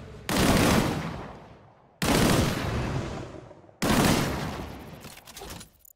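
Three loud, close gunfire bursts in the video game Disintegration, each striking sharply and then trailing off as shots are fired at a barrel, separated by brief silences.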